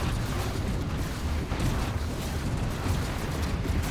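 Tachyon Lancer weapons fire continuously in a Stellaris space battle, a dense, loud wash of booming and rumbling blasts layered over one another with no break.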